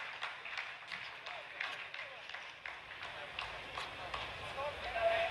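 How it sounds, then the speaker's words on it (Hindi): Scientists in a lunar mission control room applaud after a descent phase completes, a steady dense patter of many hands clapping at moderate distance, with voices running underneath throughout. "जी हाँ, आप इस तालियों के गड़गड़ाहट को सुन सकते हैं"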